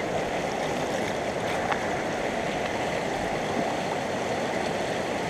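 Water rushing and washing through a gold sluice being cleaned out with a scoop, a steady close wash of flowing, splashing water with no talking.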